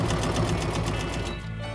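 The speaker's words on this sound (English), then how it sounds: "we're going to sew a little bit more on this first long side and stop." A sewing machine stitches a fabric face mask, a rapid, even mechanical chatter running close and loud before easing off near the end, with no talking.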